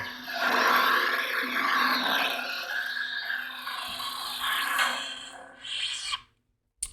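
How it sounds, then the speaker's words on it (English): A lightsaber blade lockup effect from a KR Sabers Regiis saber crackles and roars steadily for several seconds, close and loud, with a brief flare near the end before cutting to silence. "The blade lock up."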